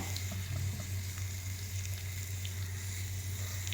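An egg fries in a pan with an even, steady hiss of hot oil and a low hum under it, close and continuous, with no speech.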